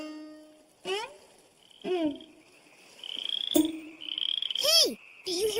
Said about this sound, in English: Hey, do you hear that? Frogs!